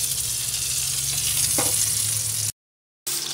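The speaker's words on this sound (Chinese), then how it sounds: "煎啲肉咧就真係教到慢慢地火慢慢煎" A thick duck breast fries slowly over low heat in a pan, producing an even, close bubbling sizzle that cuts off suddenly into silence before a short return.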